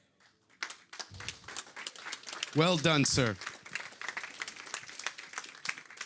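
An audience at the OpenSIPS Summit 2025 in Amsterdam claps in a short, scattered burst of applause, moderately loud, with a voice speaking over and around it.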